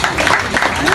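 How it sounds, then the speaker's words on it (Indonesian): An audience at a single launch event applauds in a dense, loud, continuous burst of clapping, lasting about a second, with a voice mixed into the noise. "Berikan tepuk tangan"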